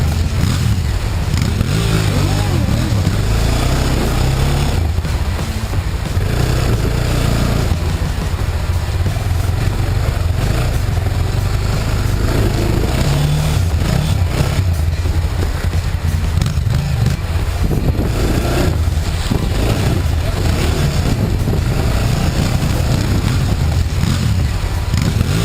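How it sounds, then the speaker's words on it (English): A Suzuki DR650 dual-sport motorcycle crossing a stream full of big slippery rocks, its mid-pitched engine chugging and revving unevenly over rushing water, close and loud throughout. "And if riding across once wasn't enough, I did it again on Sam's crappy DR650."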